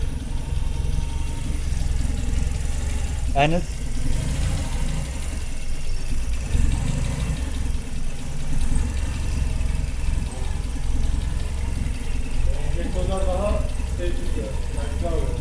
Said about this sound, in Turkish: Arabanın bak sesi teklemesiz geliyor.